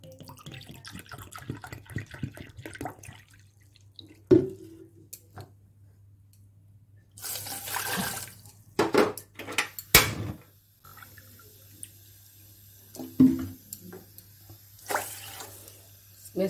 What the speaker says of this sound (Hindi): तो जब तक उबाल आता है मैं बर्तन धो लेती हूँ।